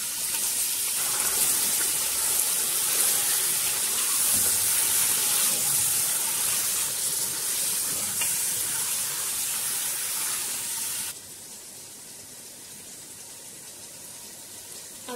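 Loud, steady sizzle as 1.5 kg of beef hits a hot pot for beef biryani, a continuous broadband hiss that drops abruptly to a quieter simmering level near the end, with no talking.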